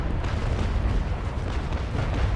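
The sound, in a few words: ship cannon fire in the video game Naval Action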